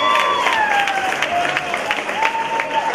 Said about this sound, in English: everybody here is applauding